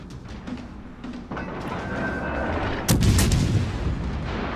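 Main battery guns of a Champagne tier 7 premium battleship fire in World of Warships Legends, a sudden heavy boom that rises over a steady rumbling battle background and lingers as a loud roar.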